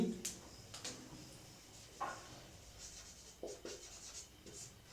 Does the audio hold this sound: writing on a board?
yes